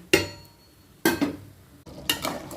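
Three brief clattering splashes as curry leaves drop into a pot of boiling tamarind, each a sharp sizzling hit that quickly fades, with quiet bubbling between them.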